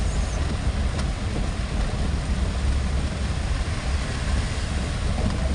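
Heavy rain falls in a continuous dense hiss and roar that holds steady and loud throughout, with no pauses and no voices.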